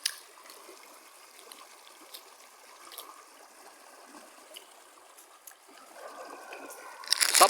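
A river current flows in Maranhão, Brazil, a faint steady trickling and gurgling of water with occasional small splashes, swelling louder in the last second.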